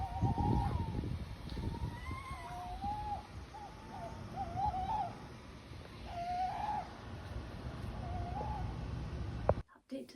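Soft, distant owl hoots repeat several times over a steady low hiss of outdoor background, recorded before dawn in the New Forest; the calls are faint and played back from a recording.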